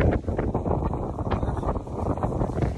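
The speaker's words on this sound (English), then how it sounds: "It's super windy" Strong wind at a beach buffets the microphone with a continuous roaring, gusty rumble that fills the whole stretch without pause.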